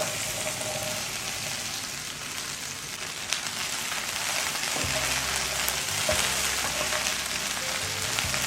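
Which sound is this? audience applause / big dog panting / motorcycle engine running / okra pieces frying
okra pieces frying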